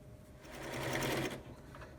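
A sewing machine runs a long straight seam on a fabric headband piece, giving one brief, steady, close whir that swells and fades with no talk over it.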